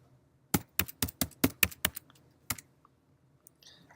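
Quick, crisp computer keyboard keystrokes rattle out a short burst of about ten clicks as a search is typed, close and clear with no talking, then trailing off into a few sparse taps.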